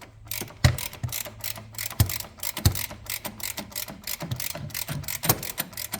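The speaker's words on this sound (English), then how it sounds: "I'm gonna go ahead and loosen that side bolt first" Ratchet wrench loosening a transmission mount bolt on a Honda Element, a rapid series of close metallic clicks and pawl ticks in uneven bursts, fairly loud with no talking.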